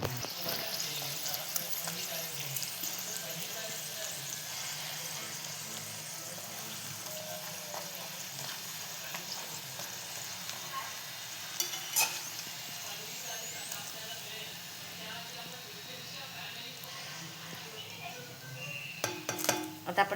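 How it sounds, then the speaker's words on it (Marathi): A leftover chapati frying on its second side in a pan gives a steady, soft sizzle throughout, with occasional light clinks of a utensil and a few sharper taps near the end. "आता आपण दुसऱ्या साईडून फ्राय करून घेऊया."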